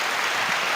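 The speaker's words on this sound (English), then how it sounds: "Give her the applause" Applause from a live show audience, a dense wash of many hands clapping at once, steady and fairly loud for under a second with no voices.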